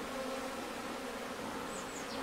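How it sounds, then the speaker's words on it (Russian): Honeybees fly out of a hive warmed by the sun in February, a steady, dense buzzing drone from many insects that fills the air nearby, continuous and unbroken with no voices. "пчелы это тепло чувствуют и выходят на облет"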